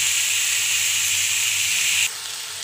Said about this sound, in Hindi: सारे सॉस को हम डाल देंगे जो हमने मिलाकर रखा था